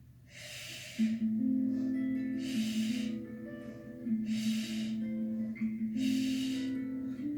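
Slow, deep breaths during a yoga session: four long airy breaths drawn in and let out at a steady even pace, close and clear over a low sustained musical drone.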